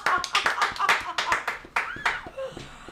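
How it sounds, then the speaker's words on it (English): A few people in a small studio clap in uneven bursts, close and fairly sparse, with light chuckling and a voice mixed in as the clapping trails off. "Oh, I think that deserves a round of applause."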